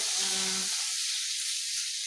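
Curry leaves drop into hot oil with mustard seeds already popping, giving a bright, close sizzle and hiss that settles into a steady frying hiss, with no talking.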